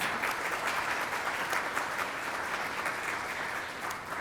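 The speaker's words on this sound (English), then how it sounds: "let's thank everybody for supporting today's forum. Big round of applause." A crowd at a Columbus Metropolitan Club forum on Columbus fashion gives a big round of applause, dense steady clapping filling the room without a break, slightly fading toward the end.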